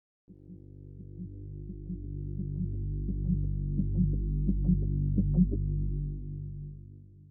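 Rhythmic synthesizer pattern for a neurofunk intro: a steady low droning hum with pulsing, evenly spaced plucked notes that grow slightly brighter toward the end, alone and fairly loud.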